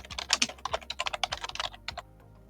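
Fingers type rapidly on a computer keyboard, producing a quick, even patter of close key clicks for about two seconds before stopping.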